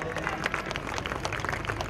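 An audience claps together at a Krishna Janmashtami celebration, a short, dense burst of applause from a sizable crowd with the sound of a gathering around it.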